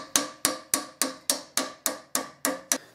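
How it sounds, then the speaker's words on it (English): Nine sharp metallic taps land at a steady rhythm on a dented brass cornet bell fitted over a mandrel. Each strike rings briefly before decaying, and the taps are close and clear with no voices. "I'm going to go around the bell one more time and tap down the high spots."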